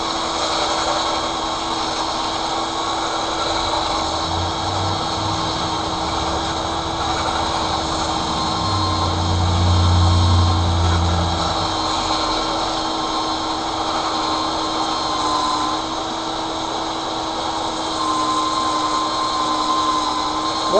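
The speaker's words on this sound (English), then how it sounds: "I'm putting my sander on, clamping it down" A steady electric motor whines continuously at a constant pitch, a power sander running close by with no pauses.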